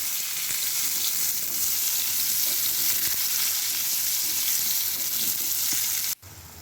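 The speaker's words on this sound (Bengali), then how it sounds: "আলু আর পটল একসাথেই ভেজে নিচ্ছি" Potatoes and pointed gourd fry together in a pan with a dense, constant sizzle at close range. It holds steady throughout, then drops suddenly just before the end.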